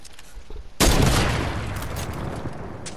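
A sudden dense burst of gunshots in Fortnite, loud and close, its roar tailing off slowly over the next couple of seconds with no talk.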